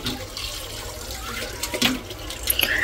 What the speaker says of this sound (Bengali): আমি এখন এই যে ধুয়ে পরিষ্কার করে নেব।